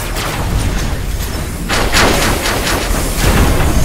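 A T8 plasma tank fires in the Robocraft video game, with loud, punchy shots landing in an uneven run of several bursts over a constant rumble of battle noise.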